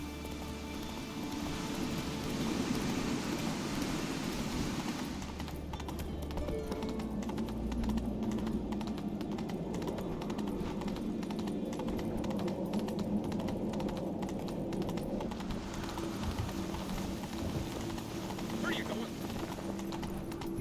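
Roach, the horse in The Witcher 3, clops along with rhythmic hoofbeats that run steadily throughout. At one point the game character speaks over them.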